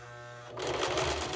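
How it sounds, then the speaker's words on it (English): A sewing machine zigzag stitching a fabric face mask: a steady motor hum that swells to a louder, busy mechanical whirr partway through, close and continuous. "I'm using a zigzag stitch on it"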